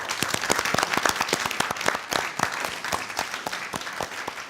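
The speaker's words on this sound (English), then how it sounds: "Let's give our judges and our contenders a big round of applause." Sustained applause from an audience cheering the judges and contenders of a hotel cooking competition show, dense overlapping claps with distinct sharp hand strikes, steady and fairly loud throughout.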